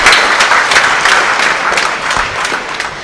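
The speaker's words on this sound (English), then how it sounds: "Please give another round of applause for everyone who came up on the stage here" An audience applauds people who came up on stage at a startup event in Tenkasi, a dense, steady wash of many hands clapping that stays loud throughout with no talk over it.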